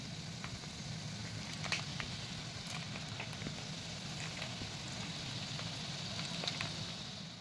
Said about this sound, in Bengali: এইবার গাঠিয়াগুলো তেলের মধ্যে দিয়ে দিচ্ছি।